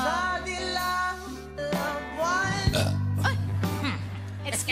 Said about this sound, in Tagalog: Yes, ang mga mayayaman, pagkatapos uminom ng tubig, dumidighay.